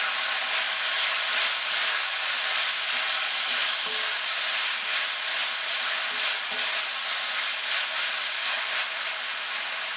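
Ground beef keema fries in a karahi, sending out a constant loud sizzle broken by occasional scraping stirs of the spoon against the pan, with no talking.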